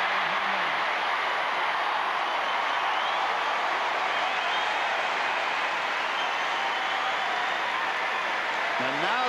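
A Wimbledon third-round crowd applauds Henman with dense, sustained clapping that fills the whole stretch at an even, loud level, like a broad wash of noise.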